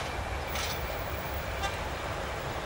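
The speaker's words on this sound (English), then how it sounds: "Little honk." A short, distant car horn toot cuts through a steady wash of street traffic noise, with no one speaking.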